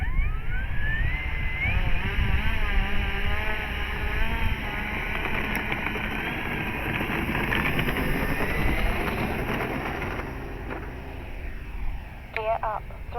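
FMS T28 1400mm RC plane taking off with flaps set, its electric motor droning loudly and steadily with wavering pitch, people talking over it throughout.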